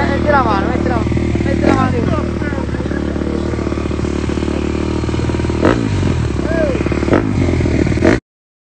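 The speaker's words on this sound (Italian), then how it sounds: "Ti piace o no sta moto?" A motorcycle engine idles and revs nearby, a rough continuous rumble with occasional surges, while people talk over it.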